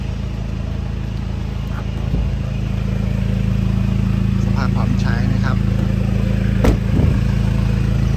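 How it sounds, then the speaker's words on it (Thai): A 2002 Toyota Hilux Tiger 2.5 J four-door pickup engine idles with a steady, even low rumble while someone talks over it. "เสียงเครื่องยนต์ปกตินะครับเดินเรียบนะครับ"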